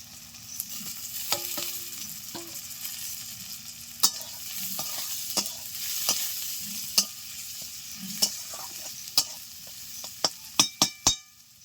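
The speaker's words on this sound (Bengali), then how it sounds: "পেঁয়াজ ভাজা ভাজা হয়ে গেছে এখন দিয়ে দিচ্ছি ভেজে রাখা আলু ও চিংড়ি মাছ" Fried potatoes and prawns are stirred into sizzling onions in a pan for a village-style banana flower dish, a continuous close frying hiss with repeated utensil clinks and taps that grow sharper near the end.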